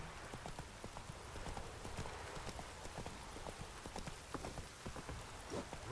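Roach the horse's hooves in The Witcher 3 while being ridden, quick rhythmic clip-clop beats on the ground, faint and steady across the whole stretch.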